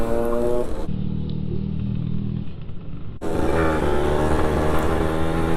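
Kawasaki Ninja RR motorcycle on a touring ride, its engine droning and revving with a gear change in the middle, loud and close, with wind rush around it.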